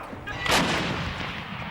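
Artillery barrage during Iraq War combat in 2003, a loud, close, booming blast that rolls out into rumbling noise across the short stretch, with no talk.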